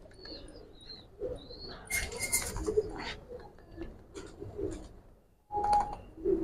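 Domestic pigeons, including a hen bird, coo softly and close by in low throaty bursts with brief chirps, flutters and handling rustles between calls, with no talk over them.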